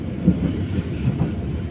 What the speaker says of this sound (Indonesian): Oke, keretanya sudah diberangkatkan dari stasiun Tanggul.